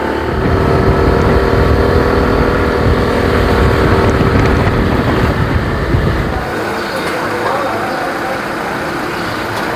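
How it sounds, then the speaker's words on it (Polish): Riding a motor scooter through Bali traffic, the engine drones steadily under heavy wind rush, with a voice briefly audible and the low rumble dropping away near the end. "Przyjechałem sobie skuterkiem."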